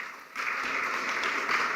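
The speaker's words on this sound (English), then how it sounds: "Farmers always get spontaneous applause." An audience at a conference on financing smallholder farmers breaks into applause, building to an even, moderately loud clapping after a brief quiet start.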